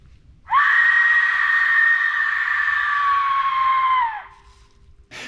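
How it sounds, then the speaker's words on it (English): An Amazonian death whistle from South America gives one long, piercing, human-like scream that holds steady for several seconds before cutting off, close and very loud, with a brief noise at the end. "A mysterious ancient artifact from South America that, when blown, emits one of the most unsettling human-like screams you will ever hear."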